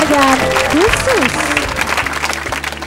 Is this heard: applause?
yes